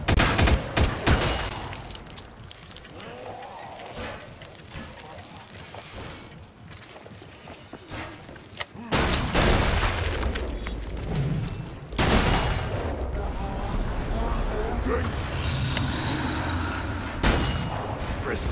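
Gunfire from a zone defense shooter game on wave 7, with dense bursts of shots and booms that continue loudly through the stretch and cut out briefly partway.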